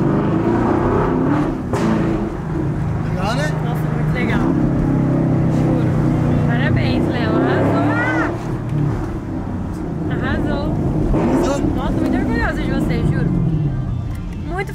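A Chevrolet Camaro engine droning loudly and continuously while the car is driven, its pitch rising and easing with the throttle, with people talking over it throughout.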